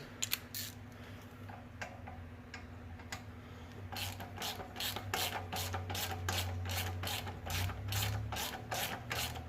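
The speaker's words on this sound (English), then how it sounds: "So now we can go ahead and start tightening our adjuster bolt." Ratchet with an extension tightening the alternator adjuster bolt on a 2000 Toyota Camry, giving a few scattered clicks and then a fast, steady run of close metallic ratcheting clicks.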